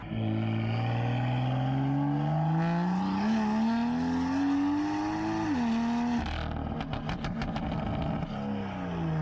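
A BMW M2 with the N55 engine and an aftermarket exhaust revs loud and close, its pitch climbing steadily before dropping off, followed by crackling pops from the exhaust and a settling idle.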